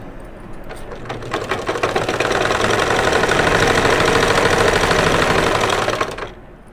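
A sewing machine runs steadily while stitching the shoulder seams of a baby frock, a loud, fast mechanical rattle that builds for about a second, holds for several seconds, then winds down, with no talk.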